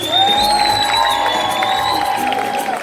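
A concert crowd in Rotterdam cheers and whoops loudly, with a sustained high shout or whistle riding over steady applause that fills the whole stretch without a break.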